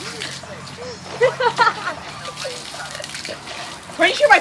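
Rainwater splashes outdoors in a downpour, with irregular sloshing and dribbling bursts while people talk and call out over it.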